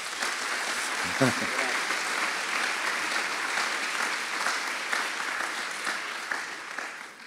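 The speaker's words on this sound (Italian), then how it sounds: "un applauso" Sustained applause from a crowd, a dense steady patter of many hands clapping throughout, with a brief voice near the start.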